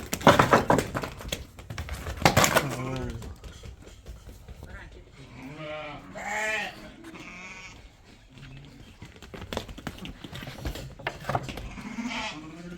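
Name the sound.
Arashan sheep bleating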